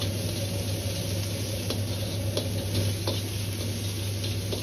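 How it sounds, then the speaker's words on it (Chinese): Pork belly stir-frying in hot vegetable oil in a wok, a steady dense sizzle with faint scattered ticks and scrapes of stirring, constant and close with no voices. "接着锅中再次放入少许的植物油，油热后加入切好的五花肉翻炒。"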